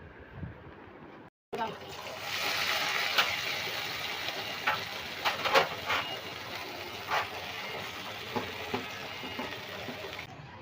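Tap water runs steadily while vegetables are rinsed in a home kitchen, a continuous close hiss with small splashes and clatters, with some talk alongside.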